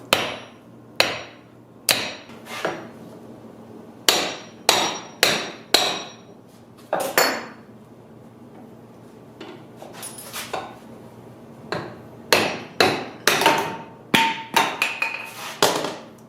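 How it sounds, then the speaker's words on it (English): Sharp hammer blows on a wood block ring out one after another in irregular bursts, loud and close, with brief quiet gaps between clusters of strikes, while freeing a woodturning tool handle. "start pounding away with a hammer"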